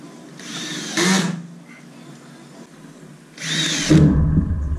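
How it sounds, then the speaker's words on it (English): A power drill drives screws into a wall panel in two short whirring bursts, each about half a second to a second long, the second one lower and more strained, with quiet room tone in between. "Finally got all the screws in though."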